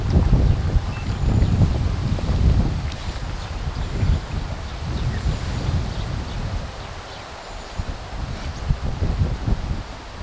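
Wind gusts across a carp fishing lake, a steady low rumble and buffeting that swells and eases over the whole stretch, with faint rustling on top and no one talking.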